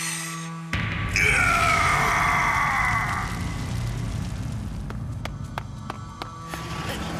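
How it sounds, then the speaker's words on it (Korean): A loud, drawn-out scream in an animated film starts suddenly and wavers for about two seconds, followed by a busy mix of footsteps, thumps and background clatter. "무슨 일이기에 그리 큰 소리로 비명을 질러?"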